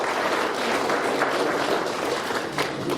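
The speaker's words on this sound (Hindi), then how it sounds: "कृपया उनका तालियों से गर्मजोशी से स्वागत कीजिए।" Warm, sustained applause from a crowd welcoming guests at a cultural evening for NHPC's 51st Raising Day in Kargil, dense and steady throughout with no pauses.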